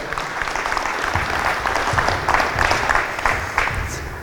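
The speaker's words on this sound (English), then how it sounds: "Round of applause." A crowd applauds at a basketball coaches clinic, a loud, dense burst of clapping that swells and holds for several seconds from a nearby audience.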